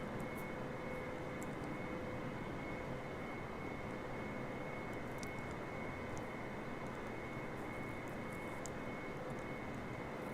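Boeing 747 jet engines in a flight simulator game, on approach to land at LaGuardia runway 31, give a steady, unbroken drone with a thin high whine above it throughout.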